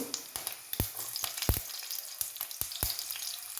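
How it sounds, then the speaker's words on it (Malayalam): Finely chopped garlic frying in oil with mustard seeds crackles in a bright, continuous sizzle, punctuated by sharp pops and spatters at irregular intervals, close up and without speech. "പൊടിയായിട്ട് അരിഞ്ഞ വെളുത്തുള്ളി ഇട്ടു"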